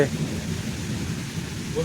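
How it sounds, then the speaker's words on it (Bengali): A low, steady rumble of thunder rolls beneath a soft wash of rain at a safari park, distant and continuous without sharp cracks. "প্রচণ্ড মেঘ ডাকছে"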